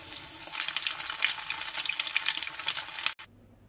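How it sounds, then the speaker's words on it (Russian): Potato pancakes sizzle in vegetable oil in a frying pan, a steady crackling hiss close by that cuts off abruptly near the end. "Формируем из нашей массы небольшие вот такие вот оладьи и обжариваем с двух сторон до золотистой корочки."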